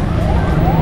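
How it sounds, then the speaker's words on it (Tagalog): An ambulance siren wails steadily in a busy street on EDSA, heard from a moving e-bike over heavy traffic and wind rumble, the rising tone clear but distant. "May ambulansya eh, pero malayo pa."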